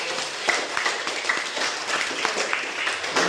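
Classroom applause from a class of Year 12 students, a steady patter of many hands clapping together at moderate distance, with faint voices mixed in.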